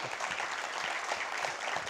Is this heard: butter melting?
no